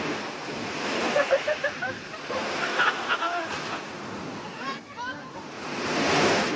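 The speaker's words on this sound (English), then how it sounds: "the sound of ocean waves crashing against the shore with people laughing" AI-generated ocean waves crash against a shore in a continuous roaring wash with wind noise, while people laugh and chatter faintly in bursts over the surf.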